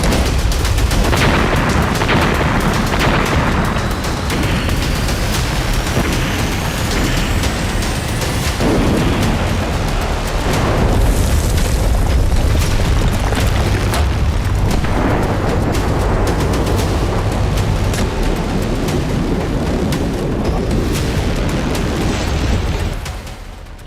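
Israeli missile strikes on Iran, with oil depots and a gas refinery burning: loud, continuous rumbling blasts and crackling bursts overlap for over twenty seconds, with heavier booms mixed in and a brief drop-off at the end.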